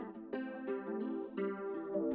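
Lo-fi crappy-radio style mix of filtered acoustic guitar strums over a bed of white noise, the chords repeating in a steady rhythm with a thin, boxy, distorted tone.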